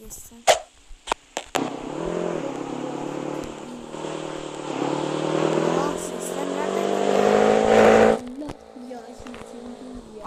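A motorcycle engine in the Roblox video game drones steadily for several seconds and climbs in pitch as it revs, then cuts off abruptly, with short knocks and brief voice-chat sounds around it.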